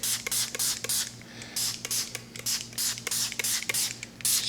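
Wet sandpaper rubbed by hand across a yellowed car headlight in quick, rhythmic back-and-forth scratching strokes, close and fairly loud, with brief pauses between passes.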